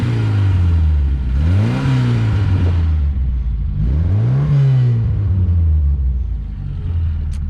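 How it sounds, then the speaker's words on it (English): A vintage MG Midget sports car with an upgraded exhaust revs twice in long rising and falling sweeps over a deep, steady idle rumble, close and loud with no voices. "It's got a nice, like, low rumble."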